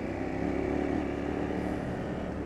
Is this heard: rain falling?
no